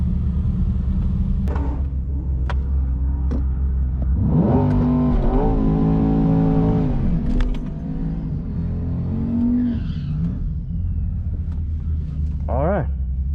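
Corvette C8 at a drag race start, a steady low engine rumble that swells into a climbing, then falling rev, followed by a few sharper rev blips, close and loud throughout.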